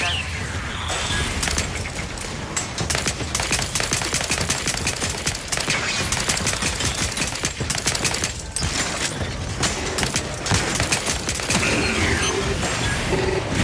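Rapid automatic gunfire crackles in bursts as a turret fires on the player in The Outer Worlds 2, with mechanical clanks and impacts over a dense, loud game soundscape.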